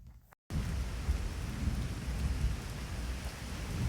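Rain pours and thunder rumbles on Mackinac Island, a steady loud wash of rainfall with low rolling thunder underneath, starting abruptly after a brief quiet moment.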